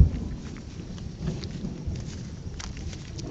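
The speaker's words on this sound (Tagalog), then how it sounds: "Umuulan na." Steady rain pattering in Echo Valley, Sagada, with a low continuous rumble underneath, fairly even throughout with no voices.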